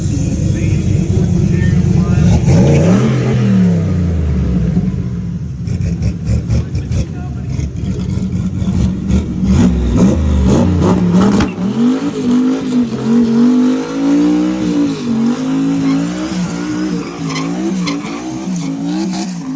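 A drag race car launches and accelerates down the strip with a loud, roaring engine that climbs through gear changes and then rises and falls unevenly while other engines rumble around it. Spectators shout and cheer over the noise.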